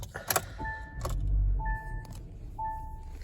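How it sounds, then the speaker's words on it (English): A 2023 Kia Soul LX is started on a freezing day: keys jingle, a short low engine rumble swells near the middle, and a repeating pair of electronic chime tones sounds three times, with no talking. "Go ahead and start it up."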